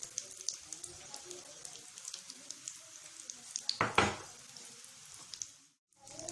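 Chicken-stuffed egg rolls frying in oil make a quiet, close crackling sizzle with scattered pops, a brief louder burst of hissing near the middle, then it drops to silence.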